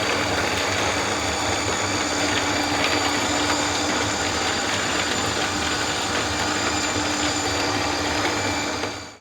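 An electric vegetable and garlic peeler runs close by, its motor giving a steady, even whir for about nine seconds before it cuts off.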